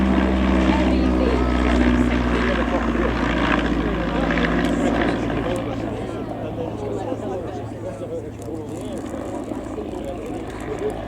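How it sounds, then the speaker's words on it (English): Propeller drone of an SE5a biplane with a 200 hp Wolseley Viper engine flying at an airshow, a loud steady roar that slowly fades as it moves away, with talk over it. "This SE5a has the 200 horsepower Wolseley Viper engine."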